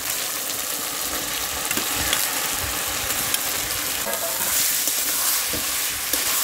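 Figs dropped into hot spiced oil and stir-fried, a steady crackling sizzle with occasional scraping stirs and soft knocks close by.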